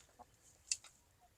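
Chickens scratch about an outdoor compost area, giving a few faint, soft clucks and short calls in otherwise quiet surroundings.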